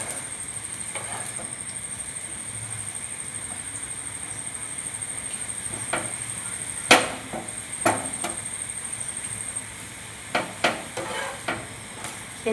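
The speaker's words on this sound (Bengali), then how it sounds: "এভাবে আমি এক এক করে এরকম পরোটাগুলো ভেজে নিচ্ছি।" Parathas fry one by one in a pan, a soft background sizzle broken by scattered sharp clinks and scrapes of a utensil against the pan, some louder knocks in the second half, no voices.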